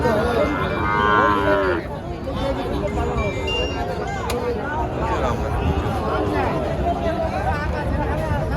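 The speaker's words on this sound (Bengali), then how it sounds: "এই যে এখানে একটা ষাঁড় বাচ্চা আছে।" A bull calf moos at a cattle market in Joypurhat, a drawn-out call near the start amid other cattle and a busy crowd, with people talking throughout.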